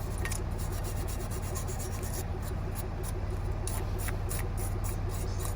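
Old residue is scraped and brushed off the caliper bracket of a 2006 Chevy Impala front brake, giving a continuous rapid rasping scrub that stays close and even throughout.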